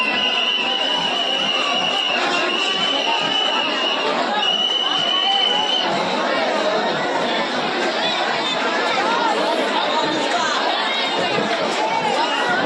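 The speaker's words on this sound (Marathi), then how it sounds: "आणि फुल गर्दी पण आहे" A dense crowd chatters loudly and continuously at Ekvira temple during a palkhi procession. Overlapping voices form a steady hubbub, with a high tonal whistle briefly rising above it.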